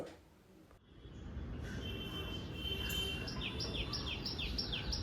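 A tailorbird in a tree calls in a quick series of repeated sharp chirps, fairly faint, over a steady background hum of insects.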